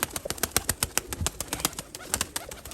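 Pigeons flap and clap their wings in a rapid, steady rhythm, with a few faint coos underneath, close by and busy.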